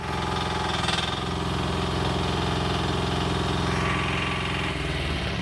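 A mini excavator engine idles with a steady, loud mechanical drone and fine rattling vibration, close by and continuous with no talking.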